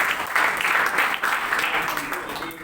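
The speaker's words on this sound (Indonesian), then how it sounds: "Kita tepuk tangan dulu untuk itu ya." A lecture audience at an Indonesian academic event claps together, a steady dense wash of applause that holds loud for a couple of seconds and starts to thin near the end.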